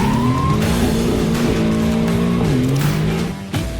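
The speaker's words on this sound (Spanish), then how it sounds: "Comenzó la vuelta llevando el Mercedes al límite." Mercedes Formula 1 car pushed to the limit on track, its loud engine shifting pitch through gear changes and revs, with a brief tire squeal and a sharp drop near the end.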